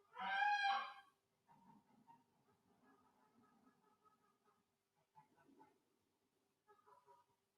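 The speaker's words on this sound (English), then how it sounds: "Sometimes I wonder, what it's like for other people to hear the goose sounds" Geese honk nearby in Stockholm, one loud nasal call up front followed by quieter scattered honks and chatter in short bursts against a still background.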